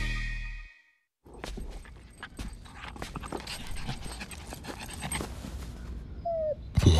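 A puppy pants quickly and steadily at close range, soft rapid breaths that keep going after a brief silence, with a few light taps mixed in.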